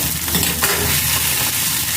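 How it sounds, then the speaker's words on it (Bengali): Egg tarka being stirred and mixed in a hot pan, a close, continuous sizzle with brisk scraping strokes of the spoon, fairly loud and steady with no voice over it. "এবার এটাকে এর সাথে ভালো করে মিশিয়ে নেব।"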